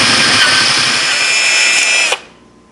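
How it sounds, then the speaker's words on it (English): A power drill with a new 3/8 inch bit bores steadily through an existing hole on a Gretsch guitar part, a loud, close, continuous whine for about two seconds before it winds down and stops. "So I've got this brand new 3/8 inch drill bit. I'm just going to open this hole up to that size."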